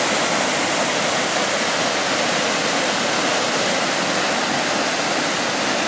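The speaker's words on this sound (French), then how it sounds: "la cascade de Colonzel, elle est en crue, c'est immense." Flooded Colonzel waterfall on the Lez river roars with a dense, constant wash of rushing water, loud and close, filling every moment without pause and with no voices present.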